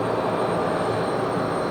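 A jet engine spools up at JFK airport, giving a loud, steady broadband roar that holds even throughout, with no voices over it.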